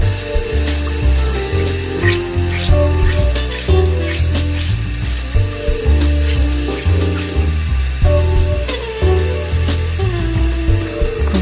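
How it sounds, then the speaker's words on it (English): Makeup brush rinsed under a running tap of warm water, a steady close stream of splashing and gurgling with soft rubbing, continuous and fairly loud, with no talk. "Make sure you rinse it properly."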